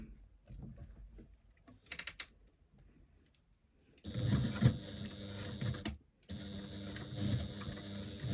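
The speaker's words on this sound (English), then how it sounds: "we're going to stitch again down the side of that zipper or down the side of that side panel" A sewing machine stitches a zipper to the side panel of a woven lambda bag, running in two bursts of steady mechanical whirring with a short pause between, after quieter handling sounds and a brief high click.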